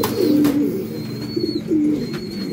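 King pigeons coo close by in a series of low, rolling calls, several in quick succession, with quieter chirps and rustling between them.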